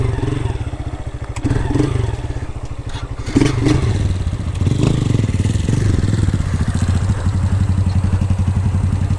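Motorcycles are lined up in place, their engines idling and burbling loudly up close with clattering thumps and brief revs as the bikes are handled.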